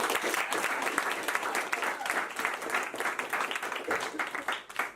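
A group claps for Avery, who has just shared something personal: sustained, fairly close applause with crisp individual claps and some voices talking underneath.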